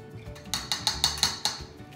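A whisk beats egg batter with cinnamon in a bowl, rapping the sides in about seven quick, evenly spaced metallic clinks, close and clear with no talking.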